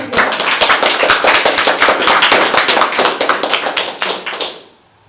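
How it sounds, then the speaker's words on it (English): Audience applause at a hackathon's final presentations, loud, dense and close clapping from many hands that holds steady for several seconds and then fades out quickly. "a special round of applause for both of them"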